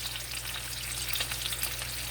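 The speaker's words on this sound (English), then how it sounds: "Right now we're just browning, searing. We're going to sear the steak up." A cowboy steak sears in melted butter, giving a dense, steady sizzle and crackle that stays even and close throughout, with a low hum underneath and no voices.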